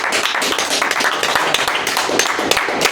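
An audience claps for a group of sisters at a talk on Islam, a dense burst of hand claps that stays loud and close throughout.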